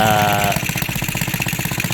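A Honda XRM 110 motorcycle engine idles close by during carburetor adjustment, with a steady, rapid pulsing beat that stays loud and even after a short tonal whine at the start.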